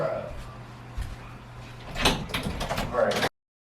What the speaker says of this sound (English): Bro, please open the door real quick, right?